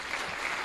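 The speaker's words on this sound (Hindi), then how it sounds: "तो प्लीज जोरदार तालियां से स्वागत करें।" An audience at a business demo event gives a short, dense burst of applause to welcome someone speaker, a steady wash of many hands clapping.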